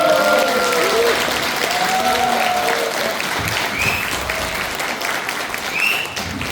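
A hall audience at a party rally lecture in Cheongju greets the speaker with loud, sustained applause that holds steady throughout, with faint voices and a brief tone heard underneath.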